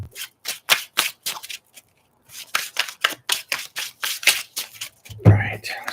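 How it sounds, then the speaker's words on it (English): Tarot cards are riffled and shuffled by hand in rubber gloves, in quick bursts of crisp, close flicking, pausing briefly midway before another run, with a voice speaking near the end. "let's try one more shuffle and then we'll get right to it"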